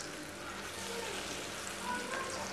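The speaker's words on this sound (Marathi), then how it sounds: "आणि ह्याला चांगलं तळून घेणार आहोत." Taro leaf fritters (aloo bhaji) frying in hot oil, a steady soft sizzle running evenly throughout at moderate level, with faint speech in the background.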